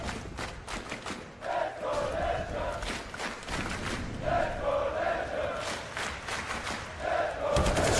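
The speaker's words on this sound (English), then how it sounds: "they got something to cheer about" A large esports arena crowd at the 2023 Counter-Strike Major (Heroic vs GamerLegion) roars and cheers in surging waves, loud and sustained, with rhythmic chanting swelling and fading a few times.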